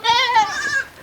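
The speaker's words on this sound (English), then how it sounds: "Right now we are taking our goats to go and graze." A goat on a farm, being taken out to graze, gives one loud, close bleat of about a second with a wavering, quavering tone.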